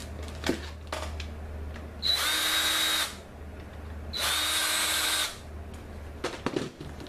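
Two bursts of a power drill whirring, each about a second long, drilling a PVC tube, separated by quiet handling noises and low background hum, close by.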